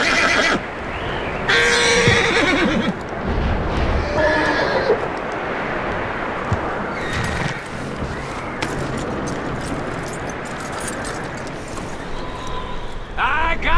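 A horse whinnies loudly during a Red Dead Redemption 2 game scene, with hoof clatter, rustling and game ambience filling the rest of the stretch.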